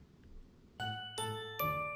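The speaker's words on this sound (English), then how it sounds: "Oh, sorry, you want the chimes?" Three bright evening chime tones ring out one after another at Pepper Tree Villa, each struck note sustaining and overlapping the next, clear and close with no talking.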